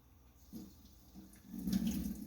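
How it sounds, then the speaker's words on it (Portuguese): Tap water runs over drained canned corn in a sink as it is rinsed, a steady splashing stream that swells louder in the second half, with no voices. "descarto essa água que vem dentro do milho. Isso é uma mania minha. Depois eu dou uma enxaguada nele."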